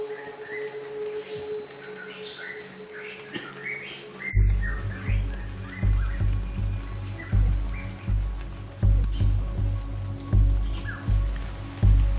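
Birds call and chirp in the Nimbokrang forest of Papua before dawn in light drizzle, scattered tweets over a steady insect drone, then a pulsing low throb starts midway and repeats under the birdsong.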